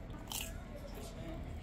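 A bite into crunchy pizza crust at Chuck Wagon Pizza in Ludington, Michigan gives a sharp crunch, then a fainter second crunch a moment later, both close to the mouth over low background hum.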